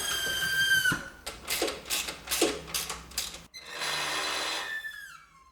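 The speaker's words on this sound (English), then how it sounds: "Now I can tighten these two screws." Two screws are tightened on a car's raised wishbone suspension, close bursts of rapid ratcheting or power-driver whirring in short separate pulses, ending with a longer run that winds down.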